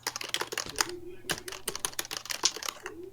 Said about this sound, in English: He's furiously typing.